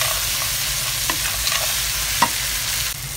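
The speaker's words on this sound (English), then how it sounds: "And then you stir fry all" Peanuts and fried anchovies being stir-fried for sambal tempe, a steady close sizzle with intermittent scrapes and clinks of a spatula against the wok, no talking.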